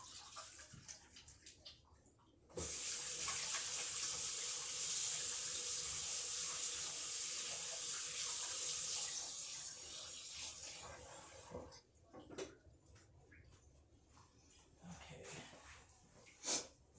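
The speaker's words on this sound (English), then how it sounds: "gotta wash my hands this time because it's a mess" A kitchen tap runs steadily for about six seconds while hands are washed clean of bread dough and flour, then shuts off, leaving faint handling sounds and light background noise.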